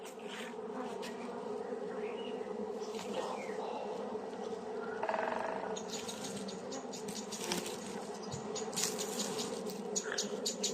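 Honeybees buzz in a beehive in a dense, continuous hum close by, with occasional individual bees droning louder as they pass.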